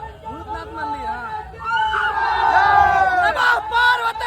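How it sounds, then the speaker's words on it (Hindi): Dense crowd noise at the Bhootnath temple in Bhagalpur, Bihar: loud, continuous babble of many voices with shouts and chants swelling midway, close and enveloping throughout. "बहुत ज्यादा भीड़ है, भीड़ तो इतना है कि पूछिए मत।"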